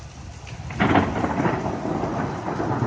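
A strong thunderstorm brings a loud, rolling rumble of thunder over steady heavy rain, the thunder swelling early and then fading into a continuous downpour.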